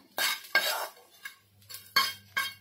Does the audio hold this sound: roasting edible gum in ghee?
yes